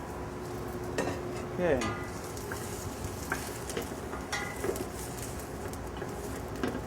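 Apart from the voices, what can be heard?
onion sautéing in olive oil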